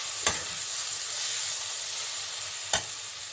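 Three green chillies sizzle in a hot pan, making a continuous hiss broken by two sharp knocks of a spoon against the pan.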